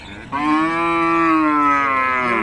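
A cow at a Thai cattle market in Som Poi lets out one long, loud, close moo lasting about two seconds, with no talking over it.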